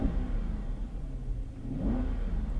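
A 2014 Chrysler 300 SRT four-door sedan revs and accelerates, a steady low engine rumble that swells near the end as the pitch climbs, heard close and alone without voices.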